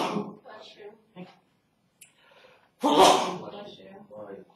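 A single sharp sneeze bursts out loud and close in a lecture hall, breaking up a lecturer's steady talk, with speech continuing before and after.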